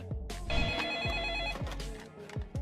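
A telephone rings while a caller waits, repeated bright trilling bell tones in steady bursts over a low background hum, with no talk.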